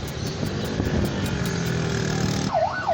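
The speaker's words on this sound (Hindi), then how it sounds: "अभी आप सायरन सुन रहे हैं।" A police siren wails up and down nearby, loud and steady, over a constant rumble of traffic at Saddar birds market.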